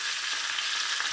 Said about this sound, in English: we're going to cut some 3 Roma tomatoes in half and put them in there.